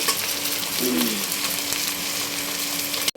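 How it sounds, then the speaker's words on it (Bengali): Fried fish turned over in a pan of hot oil brings a dense, close sizzle with a short scraping shift as the pieces flip, then steady crackling until a sharp cutoff. "এখন মাছ ভাজাগুলো এখন উল্টাই নিচ্ছি।"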